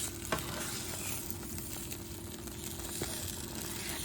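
A mushroom omelette sizzles in a frying pan as it is flipped, with a steady bright crackle throughout, close and loud, and a couple of soft scraping knocks from the pan.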